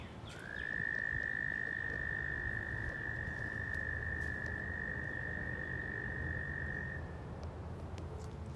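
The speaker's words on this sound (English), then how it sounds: "I think it's frogs." A single sustained high trill, likely frogs, rings steadily for several seconds over a dense bed of outdoor night noise at a campsite, then cuts off.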